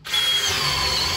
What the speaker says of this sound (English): I'm also gonna drill out right here in the middle.